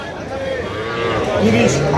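A dairy cow of a local breed moos at a cattle market in Kaharol, Dinajpur, a low drawn-out call rising in the second half amid market noise and voices talking nearby.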